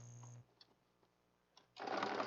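An embroidery machine stitching in a rapid mechanical patter. A loud burst of stitching opens the passage, a quieter stretch with a few small clicks follows, and then the stitching comes back loud and steady, close by, with no talking.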